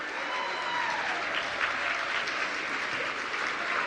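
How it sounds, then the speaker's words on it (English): A conference audience at a cyber capacity building event applauds a young lady bringing out the winner's cup, the clapping even and continuous, heard from a slight distance at moderate volume. "Give her a round of applause."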